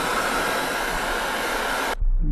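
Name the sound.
hair dryer drying corrosion paint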